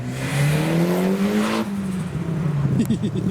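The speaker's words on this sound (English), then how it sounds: "Oh, the Escort Cosworth's leaving." Ford Escort Cosworth pulling away from a car meet, its engine rising in pitch through a gear then dropping as it shifts, loud and close, with crowd noise behind.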